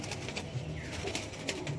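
Domestic pigeons coo softly in a loft, a faint low murmur close by with a few brief flutters, and no voices.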